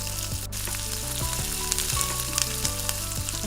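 Tomatoes sizzle as they drop into hot oil spiced with salt, turmeric, cumin and chili, a steady close crackle with occasional stirring clinks, no voices.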